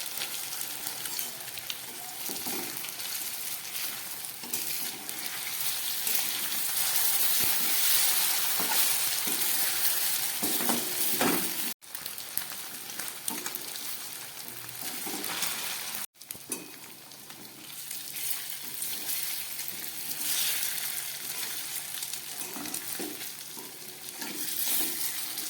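Steady, fairly loud sizzling of paneer fried with spices in a pan, dense crackle running throughout with two brief drops in sound, no talking.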